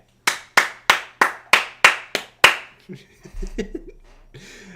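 Eight sharp hand claps in a steady, evenly spaced rhythm, close and loud, followed by a few softer, looser sounds and a faint voice.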